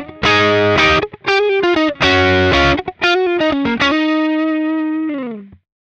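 An electric guitar through a BB Preamp overdrive model on a Hotone Ampero II Stage plays a run of short chords and notes, then lets a final chord ring and fade, crunchy and upfront with no talking.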